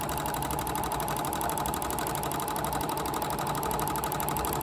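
A sewing machine free-motion quilting runs steadily and closely, its rapid mechanical stitching rhythm unbroken from start to finish with no voices.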